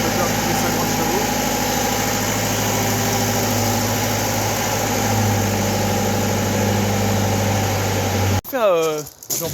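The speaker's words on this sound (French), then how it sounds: "Et c'est un petit moteur Dodge dessus," Small 50 hp Dodge engine on an old farm machine idling steadily, a constant low droning hum with a brief vocal interruption near the end.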